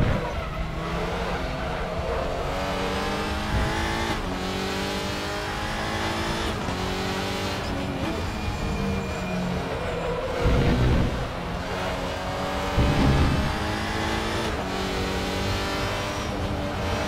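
Audi RS3 WTCR front-wheel-drive touring race car in the Raceroom sim, engine droning loudly and steadily through a lap with gear-change dips, revving surges and brief tire squeal in corners, no talking.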